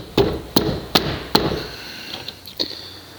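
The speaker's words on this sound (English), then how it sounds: "Usually a seal puller works pretty well" A seal puller prying a broken ABS ring piece out of a Buick LeSabre front hub gives four sharp metallic knocks at a steady pace, then a few fainter scrapes and taps, close and without talk.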